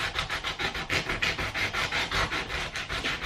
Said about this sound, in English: gently rub it off with the sanding block